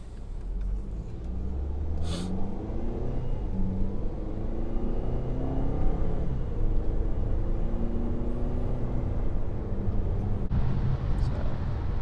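A car driving on a light-traffic morning road, a steady low engine and road rumble heard from inside the cabin throughout, with a brief click near the start and a faint voice underneath.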